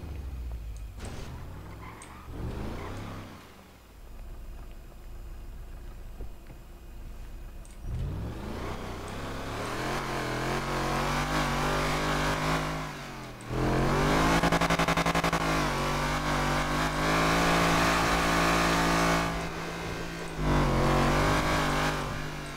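Car engine in GTA V revving hard through several loud, sustained bursts with rising and falling pitch, the strongest stretches in the second half, with no talk over it.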